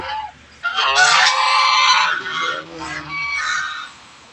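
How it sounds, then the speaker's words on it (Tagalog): Geese honk loudly nearby, a few harsh overlapping calls blending into a raucous chorus that fades after a few seconds. "Matatapang yung mga gansa namin dito"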